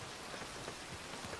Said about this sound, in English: This rain sucks!